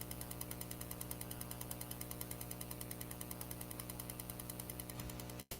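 A sewing machine stitches a test seam, its mechanism ticking in a fast, even rhythm close by before stopping abruptly at the end, with no speech.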